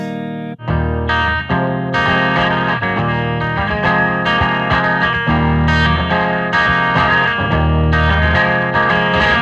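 An electric guitar plays warm, full chords through the clean channel of a Blackstar St James amp with a touch of chorus shimmer, strummed rhythmically and loudly with no one speaking.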